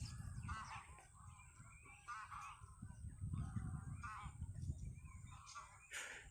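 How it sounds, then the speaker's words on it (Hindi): Flock of migratory birds at Gaurisagar tank, a wetland lake, giving repeated honking, goose-like calls in bursts over a low background hum, moderately distant and faint. "कितने सारे पक्षी हैं यहाँ पर।"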